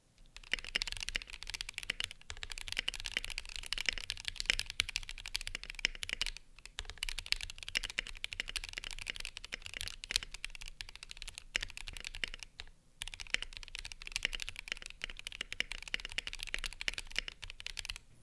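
Typing runs continuously on a mechanical keyboard fitted with stock, unlubed Banana Split switches, a close, even stream of crisp clacks broken by two short pauses. It is quiet overall, with no talk.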